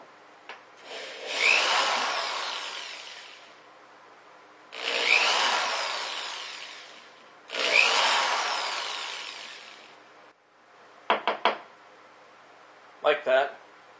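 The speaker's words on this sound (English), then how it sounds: "now I'm going to drill the holes in the cap for the shower head" A drill boring small holes, about a dozen at 1/16 inch, into a PVC cap for a homemade bucket camp shower; three long grinding bursts of drilling follow one another, ending with a few short sharp clicks and knocks.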